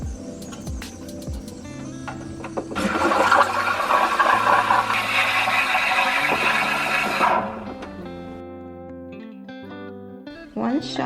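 An espresso machine's steam wand froths milk for a latte, a loud broadband hiss and gurgle that rises about three seconds in and runs steadily for several seconds before cutting off, with some clatter and background tones around it.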